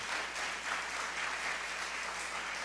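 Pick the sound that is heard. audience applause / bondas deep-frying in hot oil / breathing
audience applause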